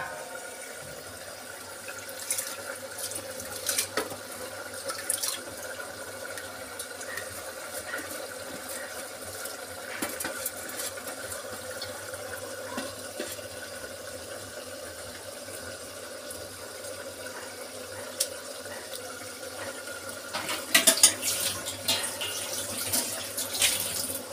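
Water running steadily into a cooking pot while lobia daal sabji is being made, a continuous moderate splash and trickle with a few louder surges near the end and no talking.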